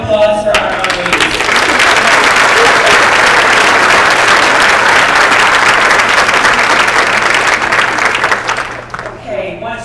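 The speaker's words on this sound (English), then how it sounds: "All right, how about another round of applause for our honorees?" A long, full round of audience applause for honorees at a transportation conference swells quickly, holds loud and even for several seconds, then thins out toward the end.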